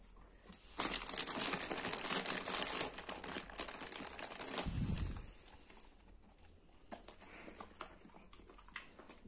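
A curious black German Shepherd noses into a bag holding dried apricots, making close, busy crinkling and rustling that swells for a few seconds, with a brief low thump partway through and quieter scuffling after.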